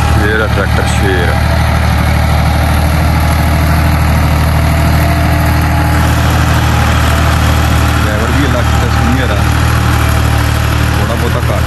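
A Massey Ferguson 260 tractor idles with a loud, steady low-pitched diesel throb that runs unbroken and close, while people talk over it.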